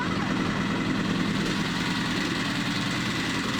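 A rare Suzuki RF900 motorcycle engine idles steadily while warming up after finally being brought back to running, a continuous low rumble held at an even, close level with no gaps.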